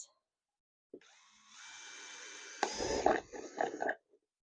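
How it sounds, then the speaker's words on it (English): A power drill whirs with a steady high whine, then bites in louder with uneven grinding bursts while drilling a small hole in a plastic planter, before stopping; close by, no talking. "we're going to go ahead and drill a small hole"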